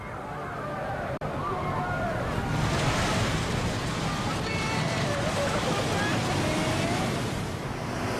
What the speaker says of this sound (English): the last wave retreated, sucking debris and people out to sea